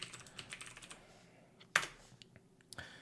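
A computer keyboard is typed on to enter a password: a short, quiet run of key clicks, followed after a pause by a sharper keystroke and a final brief click.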